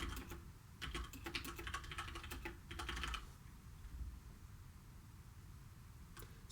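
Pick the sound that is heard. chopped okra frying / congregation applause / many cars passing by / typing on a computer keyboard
typing on a computer keyboard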